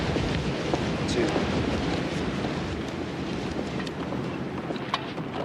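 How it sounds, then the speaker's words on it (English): Strong wind blows steadily outdoors, a loud continuous broadband roar and rush that fills the whole stretch with no break and no voices. "it's windy enough we could blow back to Austin"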